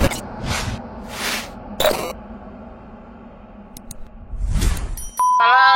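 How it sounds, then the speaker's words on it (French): A notification bell sound effect rings out in a few bright dings, with short whooshing and clicking effects between them and a ringing chime near the end. "n'oubliez pas d'activer la cloche de notification."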